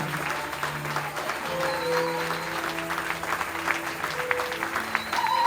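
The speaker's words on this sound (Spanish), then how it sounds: "le demos un aplauso al Dios Todopoderoso" Church congregation applause during an anniversary service, a steady, fairly loud patter of many hands clapping throughout, with faint tones and voices lingering underneath.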